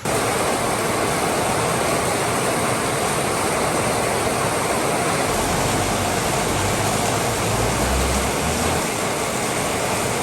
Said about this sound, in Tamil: கொஞ்சம் மழையால் எப்படி வெள்ளம் போகுது